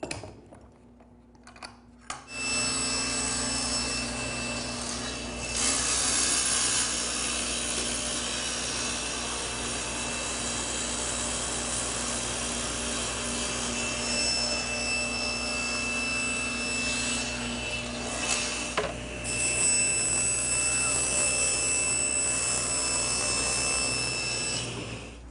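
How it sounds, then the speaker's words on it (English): A table saw cuts a back panel for a small cabinet in a workshop. After a brief quiet start, the blade spins up into a steady, loud whirring cut that runs for over twenty seconds with little change. "So I'll simply cut that on the table saw."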